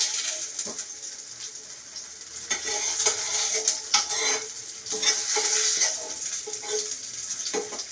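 Food being turned over as it roasts and blackens in a pan, with gentle scraping and clinking of a utensil over a soft, continuous sizzle, close up and without voices.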